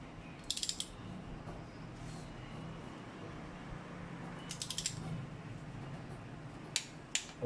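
A wrench tightens cylinder head bolts on a Toyota Altis Duo ZR-series engine, giving short bursts of close metallic ratcheting clicks at intervals over a quiet, hissy workshop background.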